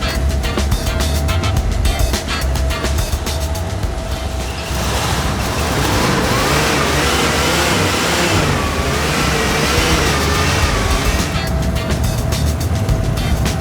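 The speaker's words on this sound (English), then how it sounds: "Good engine." An old car engine that is dropping oil revs hard nearby, a loud steady roar that climbs and falls in pitch through a couple of surges, with no clear speech.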